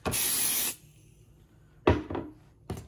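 A loud aerosol spray hisses steadily for under a second onto machine-embroidered felt, then stops; a few short rubbing or handling sounds follow, one near the end.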